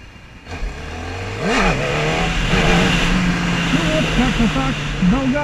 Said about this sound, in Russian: Дал газу, отжал, пустил сцепление, рывок вверх, все.